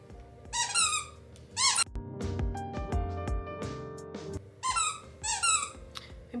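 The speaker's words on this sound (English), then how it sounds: "so if you hear squeaking, it's Luna and her toy" A dog chews a squeaky toy nearby, producing repeated bursts of shrill rubber squeaks between softer rustling and thumping handling noises, with no talk.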